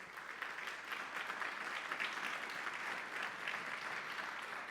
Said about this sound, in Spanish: Dele un aplauso al Señor y vamos terminando.